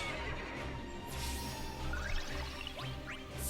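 A horse whinnies in a Final Fantasy action game during combat, several rising neighs over a dense, noisy mix of game sound effects and a low rumble, moderately loud.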